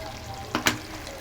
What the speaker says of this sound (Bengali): শুধু এখন এইভাবে করে নিচে থেকে নাড়া নাড়া করতে হবে।